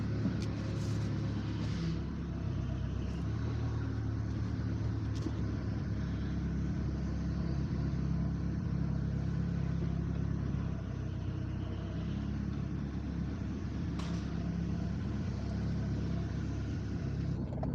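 A Toyota truck with a 3.0 engine that has no compression runs with a steady, low, rumbling idle that stays faint and constant throughout, with no voices.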